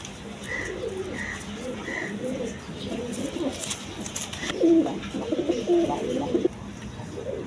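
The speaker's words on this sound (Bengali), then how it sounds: "এখানে এক পেয়ার জ্যাকোবিন কবুতর আছে" Jacobin pigeons, a red pair nesting in a clay pot at a market farm stall, coo in soft low repeated calls close by, with faint chirps and background murmur.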